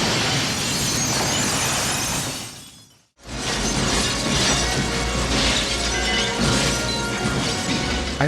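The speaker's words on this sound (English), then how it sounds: "there's a lot of glass breaking in both films" Glass shattering in a film scene, a loud sustained crash of breaking glass that cuts to near silence for a moment, then a second long burst of shattering and debris.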